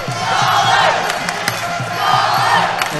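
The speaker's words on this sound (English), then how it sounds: "And you can hear the crowd getting behind the local boy." A loud crowd cheers and roars continuously at a Thai boxing fight, a dense wall of voices with scattered shouts rising and falling throughout.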